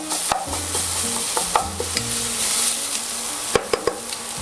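Onions browning in a pan sizzle steadily and close by while a spoon stirs and scrapes, with light knocks against the pan.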